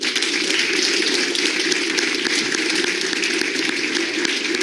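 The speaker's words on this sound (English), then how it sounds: "please give a big round of applause to Amit Singhal." Dense, steady audience applause fills a conference hall after a speaker is introduced, loud and continuous for several seconds with no voices over it.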